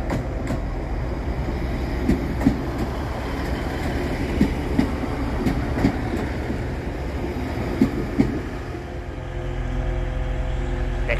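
A diesel passenger train rumbles steadily nearby as it departs Hull Paragon station, with a low diesel drone and rhythmic clicks of wheels over rail joints as it pulls away.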